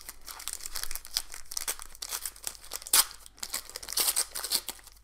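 Foil packets of 2020/21 Megacracks football trading cards being torn open and crinkled by hand, a steady run of close, busy crackling and ripping bursts with a sharper tear near the middle.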